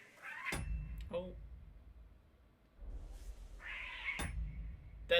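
Cat meowing inside the video game Kingdom Come Deliverance 2, two distinct drawn-out meows a few seconds apart, fairly close and clear over a quiet background with faint clicks.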